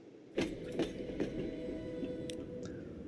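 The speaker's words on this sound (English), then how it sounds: "We'll get that train started." Small train getting under way in the rail-building game Transport Fever 2: a few sharp clicks and clanks stand out over a steady low rumble of wheels and machinery, moderately loud with no talking.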